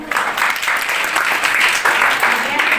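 A crowd of students claps in sustained, dense applause at a government high school event, loud and even throughout with no pauses.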